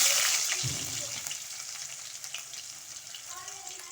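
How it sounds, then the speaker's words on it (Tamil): Chopped onion frying in hot oil tempered with mustard seeds and urad dal, a steady bright sizzle throughout with a brief low thump near the start as the onion goes in. "இப்போ வெங்காயம் சேர்த்துக்கலாம்"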